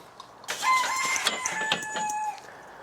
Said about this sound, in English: Man, this rooster next door is in full form today guys.